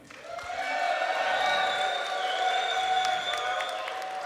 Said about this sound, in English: round of applause based on volume for which is your favorite one